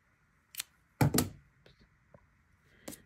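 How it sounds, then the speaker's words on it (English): Crochet yarn being snipped with scissors, heard as a few sharp close clicks and snips in a quiet room, with a soft thump in the middle. "cut the yarn,"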